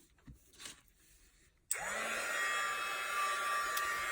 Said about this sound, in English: I'm going to turn on my heat tool